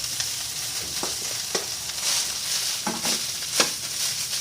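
Cooked rice frying and browning in an oiled pan, with a steady bright sizzle and a few soft scrapes of a spatula turning it, heard up close.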